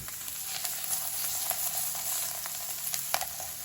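Halloumi grills in an oiled pan with a steady close sizzle and crackle, broken by small sharp pops and spatters throughout.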